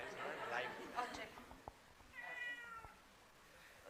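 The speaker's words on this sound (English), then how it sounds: "And right now, this is actually my cat." A pet cat meows a few times, mid-distance, while people talk over and around it in a busy indoor setting.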